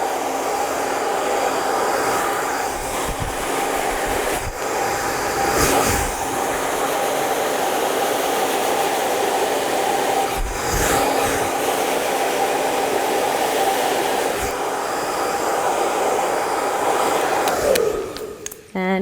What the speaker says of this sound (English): take a round brush with our blow dryer